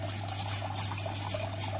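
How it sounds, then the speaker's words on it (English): A steady thin stream of water trickles from the reflux condenser of a home alcohol still into a bucket, continuous and even, under a constant low hum. "Nice and steady little stream."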